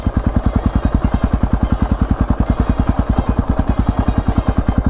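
KTM 500 EXC-F single-cylinder dirt bike riding slowly in third gear, a loud close thumping exhaust beat with a fast, very even rhythm that holds steady throughout.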